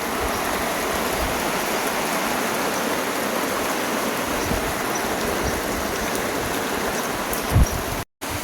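Rain falls on the stone steps of Girnar hill as water rushes down them, a loud steady wash of pouring and splashing, with a brief thump near the end.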